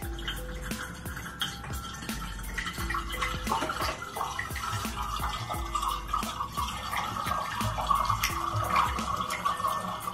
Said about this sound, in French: Je vais mettre l'eau dans la chicha.